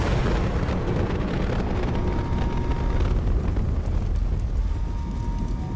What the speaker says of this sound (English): Impending explosion.